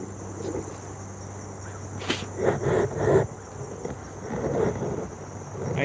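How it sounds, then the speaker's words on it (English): Frogs and insects call at a creek, a steady shrill chorus over low background noise, with a few nearby knocks and rustles and some faint speech. "Frogs everywhere."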